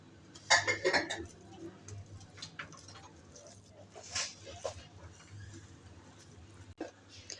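Potato and bread mixture being mixed in a bowl, with a burst of clinking and scraping early on, then softer, irregular knocks and rubs, with faint background voices.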